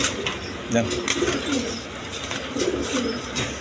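Pigeons at a bird sale coo in repeated soft, throaty bursts close by, with someone talking throughout over the birds.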